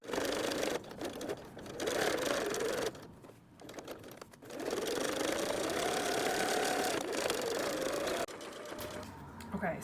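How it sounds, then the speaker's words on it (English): A sewing machine stitching closed the opening in a bag lining, running in steady bursts with short pauses between, fairly close and moderately quiet, with no talking over it. "And as we go across here, we're sewing up that little opening."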